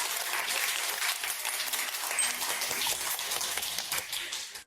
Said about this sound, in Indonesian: mari kita sambut dengan tepuk tangan meriah Ibu Su